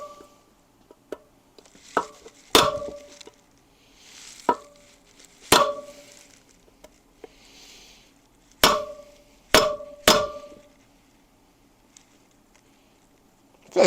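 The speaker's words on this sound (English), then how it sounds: "I'm gonna grab a metal hammer." Sharp metallic hammer taps on a wheel bearing in an aluminum motorcycle wheel ring out at irregular intervals, some in quick pairs, with quiet gaps and small clinks between.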